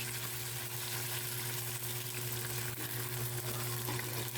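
Pork ribs for afritada sizzle in a pan, a dense, steady crackling hiss that keeps up at even strength throughout, with a faint low hum beneath and no voices.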